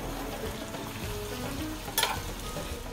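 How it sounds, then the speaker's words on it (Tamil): Cloves and cardamom sizzle steadily in hot oil for biryani, a continuous close frying hiss with a brief louder crackle partway through and no voices. "4 கிராம்பு, 4 ஏலக்காவையும் எண்ணெய் சூடானோன்னு போட்டுக்கிறேன்."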